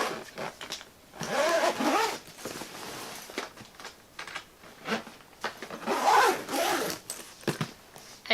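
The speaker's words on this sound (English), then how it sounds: "Zip her up." A carry-on travel bag being zipped shut, its zipper giving two long rasping pulls in close, quiet surroundings with no talking.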